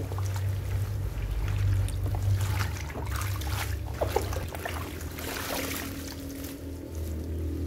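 Cassava leaves are rinsed by hand in a basin of water, with sloshing, trickling and pouring splashes in irregular bursts, close by and fairly soft, over a low steady hum.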